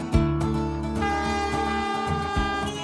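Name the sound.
train in the Ecuadorian Andes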